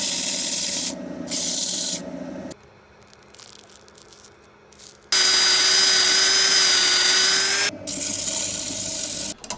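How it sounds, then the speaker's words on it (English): Abrasive sanding rasps against a wooden bowl spinning on a lathe at reduced speed in long bursts, broken by quieter pauses where the lathe's hum is heard. "I always reduce the revs when sanding to keep the heat down"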